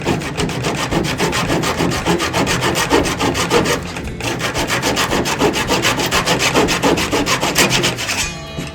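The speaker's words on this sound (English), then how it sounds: "favourite part of running scarves like this is cutting the pip off at the end." Hand saw trimming the pip off the end of a wooden scarf joint on a boat's spray rail, steady rapid back-and-forth strokes, loud and close, with a brief pause midway and a scrape as the cut finishes.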